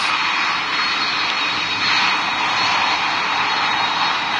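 An airliner's engines drone loudly and continuously as the plane taxis in the PTS flight simulator game, a steady broadband roar with no voices over it.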